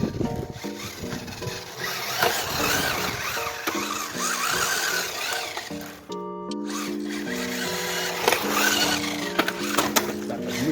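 A Kyosho Fazer Mk2 2021 Toyota Tundra RC truck runs outdoors in the cold, its electric motor whining steadily with rising and falling pitch as it speeds up and slows down, close and fairly loud throughout.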